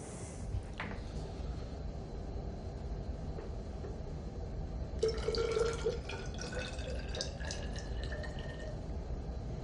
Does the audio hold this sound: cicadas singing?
no